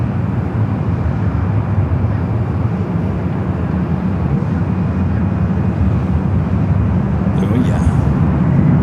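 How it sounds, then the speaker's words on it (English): Steady, loud jet roar of an airliner taking off at Los Angeles International Airport, a continuous low rumble holding level throughout with no breaks. "Smoky takeoff coming up."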